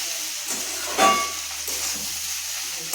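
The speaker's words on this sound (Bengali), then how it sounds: "এভাবে খুব ভালো করে ভেজে নিতে হবে" Flattened rice (chira) fries in a pan for pulao, giving a steady, close sizzling hiss with a brief louder stir-and-scrape burst partway through, with no voices.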